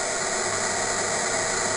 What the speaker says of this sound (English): I mix in a bit of white noise.